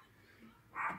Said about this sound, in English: I do apologise if you can hear Lizzie barking